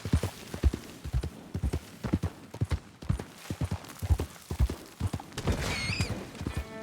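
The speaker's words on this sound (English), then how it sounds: "My horse is making funny noises." A horse in the Red Dead Redemption 2 video game clip-clops steadily at a trot, hooves thudding in a close, even rhythm, with a brief snort or whinny near the end.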